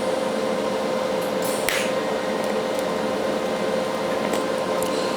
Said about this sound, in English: just burning in quickly, because I don't want this metal to heat up too much before I get my tacks in